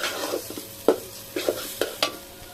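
Bhuna khichuri stirred in a pot: a ladle scrapes and clacks against the metal in several separate strokes over a low sizzle.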